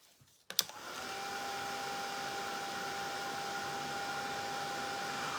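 After a click, a heat gun starts up and blows a steady, moderately quiet whooshing stream with a thin constant whine while warming a wooden Santa boot craft piece, continuing without pause.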